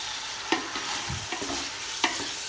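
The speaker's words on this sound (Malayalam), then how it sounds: "ടൊമാറ്റോ നീരുള്ളി എല്ലാം നല്ല മിക്സ് ആവണം, നല്ല വേവണം." Tomatoes and onions stirred and fried in a pan for biryani, soft sizzling under a few distinct scraping stirs of a spoon, close and fairly quiet, without talk.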